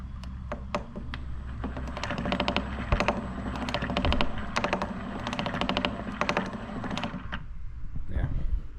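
Rapid, irregular clicking from the track of a Lymow robotic lawn mower after cleaning, a dense run of sharp ticks over a steady motor hum for several seconds, close and fairly loud with no speech.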